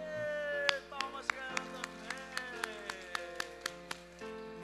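A group of children clap together in a classroom, a series of sharp, evenly spaced claps ringing out over a sustained musical tone, near and fairly loud.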